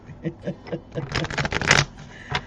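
Tarot cards are shuffled by hand, giving a few soft taps and then a dense, quick riffle of flicking card edges. A brief flutter of cards follows, and nobody speaks over the sound.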